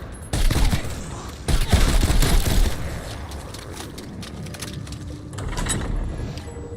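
Tactical rifle fire in the game Call of Duty Black Ops Cold War Zombies comes in two loud rapid bursts close together, followed by quieter shots and background game noise.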